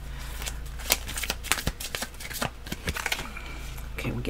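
Tarot cards are shuffled close up in quick riffling bursts and flicks, a busy crisp rustle lasting a few seconds, with a voice speaking over it.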